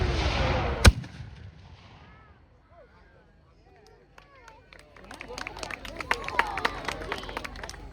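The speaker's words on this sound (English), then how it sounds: "Civil War artillery pieces, and they fire to be able to do this, just to fire and blank" A Civil War artillery cannon fires a blank at an outdoor 18th-century festival: one sharp, loud boom near the start, then its rumble fades into crowd murmur and voices.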